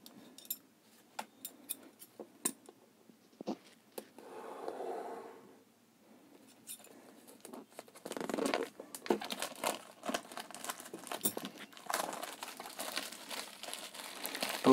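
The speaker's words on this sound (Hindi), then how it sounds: "दोस्तों ये हमने इसका पॉलीथीन रैप हटा दिया है और हम इसको अनबॉक्स करते हैं" Polythene wrap is peeled and crumpled off a grey OnePlus Nord phone box, with sharp crinkling bursts at first, then a denser, closer stretch of rustling and crackling toward the end.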